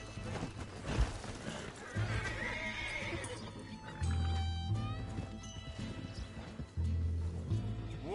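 A horse in Red Dead Redemption 2 whinnies loudly and snorts, with clip-clopping hooves and heavy low rumbling thumps recurring throughout, close and prominent.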